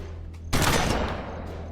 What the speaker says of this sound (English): Alright, that guy's gonna get a shotgun to the face.